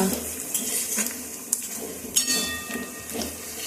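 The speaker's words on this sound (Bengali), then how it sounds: "পেঁয়াজটা এখানে ভেজে নিচ্ছি" Onions frying in a pan for biryani birista, with a metal spoon scraping and clattering against the pan over a soft sizzling hiss, close and steady with occasional sharper knocks.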